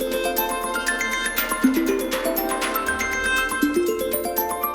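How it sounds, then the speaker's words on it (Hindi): A bright melodic phone ringtone plays, a quick run of tinkling synth notes repeating in a steady rhythm, loud and close with no voices. "सखी का फोन है, स्पीकर पे लगा।"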